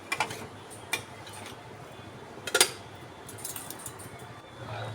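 A spoon scrapes and clinks against a pot of Gobindobhog rice payesh while sugar is stirred in, giving a few sparse, light metallic taps with quiet gaps between them.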